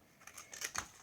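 Scissors snip through stamped paper to shape a small banner: a few quick, close cuts in a brief burst, with no voices.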